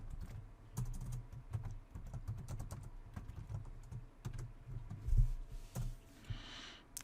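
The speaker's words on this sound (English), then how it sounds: "Type in a new subject line, and we'll type in some email content." Quiet, continuous keystrokes on a computer keyboard while email text is typed, an even patter of soft clicks with occasional louder taps and no speech.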